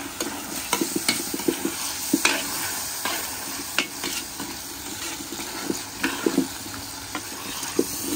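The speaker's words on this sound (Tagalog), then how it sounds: "Bihon gisado." Bihon rice noodles are sautéed for pansit in a hot pan: a continuous oily sizzle broken by repeated sharp scrapes and clacks of a utensil stirring and tossing, close and alone.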